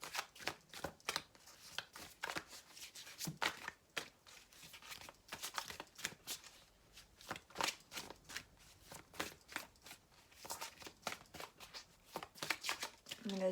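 Tarot cards shuffled by hand in steady, quick bursts of riffling and slapping, fairly close and moderately loud, continuing for the length of the clip with short pauses between runs.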